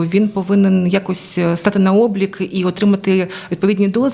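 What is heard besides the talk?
No distinct noise like a dog, phone or traffic.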